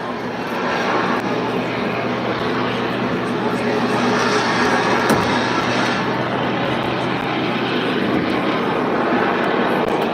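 An aircraft performing at the Bray Air Display, its engine droning steadily and loudly throughout, a broad continuous roar with only slight swells as it manoeuvres, alone without talk.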